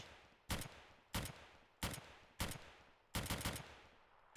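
A semi-automatic sniper rifle in 7 Days To Die fires about eight sharp, loud shots, evenly spaced at first and then as a quick double. Each shot cracks with a short echoing tail and there is quiet between them.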